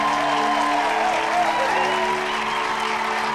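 A crowd applauds in a movie scene, a dense, steady patter of clapping that holds at an even level throughout, under a sustained musical tone.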